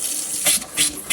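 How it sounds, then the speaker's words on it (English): Water gushes from a kitchen tap in uneven spurts and splashes, loud and close, as the faucet spits air while the lines refill after a hot water tank anode replacement. "go open up taps and make sure water's running through the house good"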